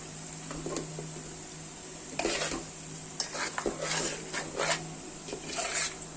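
Duck roast with curry leaves and pepper powder being stirred in a hot pan, with scraping spoon strokes in irregular bursts over a steady close sizzle.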